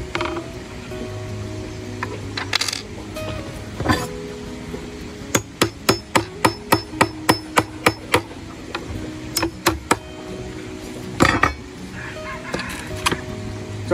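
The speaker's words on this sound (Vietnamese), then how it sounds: "Bàn này người ta khoan lỗ sẵn rồi cho nên là về mấy anh em chỉ cần làm việc là lắp luôn thôi cô bác." Rapid series of sharp hammer blows while assembling a pre-drilled table, about a dozen strikes in quick uneven bursts, close and loud over a background of creaks and light handling noise.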